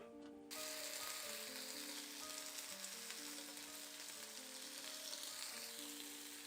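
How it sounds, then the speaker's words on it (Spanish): Homemade chicken skewers land in a little oil on a grill pan and sizzle steadily and densely at close range, with soft background music underneath. "ya tengo aquí mi asador donde voy a poner mis pinchos o mis brochetas, como ustedes lo llamen. Le voy a poner un poquito de aceite"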